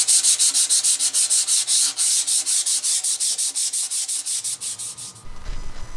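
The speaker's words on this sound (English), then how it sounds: "a little more sanding to do on this rim before we can assemble this" Sandpaper is rubbed back and forth on a metal wheel rim from a 4-inch scale Burrell road traction engine model kit, making steady, rhythmic, close scratchy strokes about three per second, which stop near the end, leaving a low rumble.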